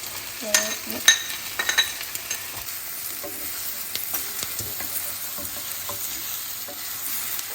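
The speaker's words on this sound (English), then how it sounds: "We're going to try to brown these for about 5 minutes. I'm putting in the thyme and the garlic along with the shallots." Thyme, garlic and shallots browning in a pan alongside a mushroom mixture, a steady close sizzle broken by stirring strokes and a few sharp utensil clinks early on.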